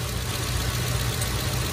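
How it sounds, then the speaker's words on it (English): A Crown Victoria LX engine runs steadily at idle, heard up close with a loud, even rumble and no talking. "I'm by the engine, so you definitely can't hear me"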